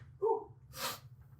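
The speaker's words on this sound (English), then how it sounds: "Oh, I've got a sneeze coming." A single close sneeze, a short voiced intake followed by a sharp breathy burst, over a faint steady hum.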